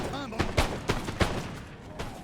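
Scattered musket shots crack through a Napoleon: Total War online battle, faint and somewhat distant, a few separate reports in quick succession over a low murmur. A voice is briefly audible at the start.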